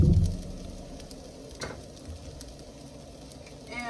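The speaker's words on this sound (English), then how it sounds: "Let that fry a little bit." Chile rellenos frying in a pan give a soft, steady sizzle that opens with a slightly louder burst, then settles into a low, even crackle throughout.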